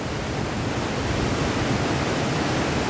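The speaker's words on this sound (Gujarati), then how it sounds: "પાણીનો વહેણ એટલો છે" Water rushing over the Dhamsiya dam on the Ashwin river in full flow, a loud, steady broadband roar with no breaks.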